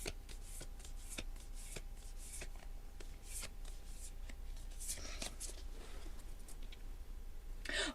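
Tarot cards from a spread of star cards lifted and shuffled by hand, giving soft papery flicks and light taps at an irregular pace, close and quiet, with a brief louder rustle near the end.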